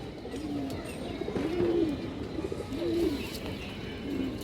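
A female Khoyragola pigeon coos in several soft, rolling calls spaced about a second apart, close by over a low background hum.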